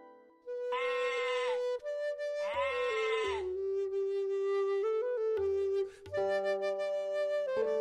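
A goat gives several long, loud, wavering bleats close by, each one harsh and drawn out, with short breaks between the calls.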